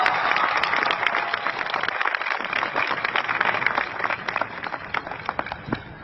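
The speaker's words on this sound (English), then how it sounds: "Can I get a round of applause for all these people we wish to thank?" Steady applause fills a high school graduation ceremony in 2017, a dense crowd clapping continuously at moderate distance with faint cheering mixed in.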